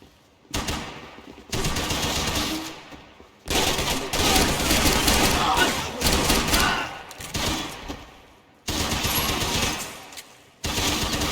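Loud bursts of automatic gunfire from the video game Max Payne 3 come in several sustained volleys, separated by brief silences.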